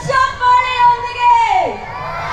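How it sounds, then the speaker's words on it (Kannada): A live stage-show audience in Kannada-speaking Karnataka cheers and whoops as a playback singer walks on, with a rising, then falling shout over the crowd noise, brief and fairly loud. "ಸಮಾಜದ ಜೋರಾದ ಚಪ್ಪಾಳೆ ಬರಲಿ."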